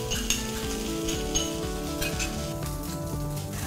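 Beans tipped into a pan of browning onions sizzle and fry steadily while being stirred, with occasional clinks of a utensil against the pan, close and continuous throughout.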